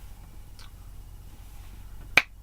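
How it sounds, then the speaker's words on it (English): A single sharp finger snap rings out near the end, close and crisp, after a stretch of quiet room tone. "I can snap my fingers"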